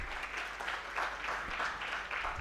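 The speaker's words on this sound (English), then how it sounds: "So a round of applause for Eloge, please." An audience at an agripreneur prize competition final gives a steady round of applause, a dense even patter of many hands clapping without pause, heard fairly faintly from a distance.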